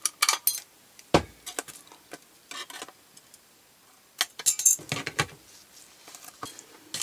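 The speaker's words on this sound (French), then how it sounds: "Et je viens couper droit d'abord." Scissors or shears cutting a straight line through a thin metal cover for a recycled notebook, heard as sharp clipped snips and rustles in bursts with quiet gaps between.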